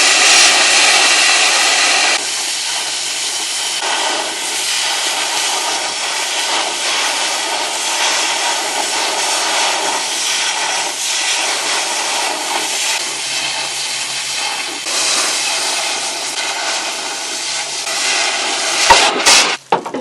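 An oxyacetylene torch roars as it cuts through steel gooseneck trailer siderails, a loud, continuous hissing rush that wavers slightly in intensity over about twenty seconds, close by and with no voices.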